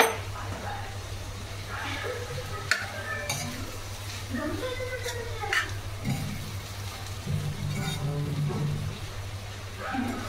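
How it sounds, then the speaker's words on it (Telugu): A spoon stirs soaked poha (flattened rice) around a hot pan, giving a steady scraping and sizzling with occasional clinks against the metal, moderately close, while someone talks throughout. "బాగా మనం కలిసేలాగా మొత్తం ఒకసారి కలుపుకుందాము."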